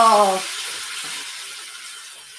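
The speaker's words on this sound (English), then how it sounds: "Listen to that sizzle." Food sizzles steadily in a hot pan, a constant bright hiss that fades slightly, after a brief voice at the start.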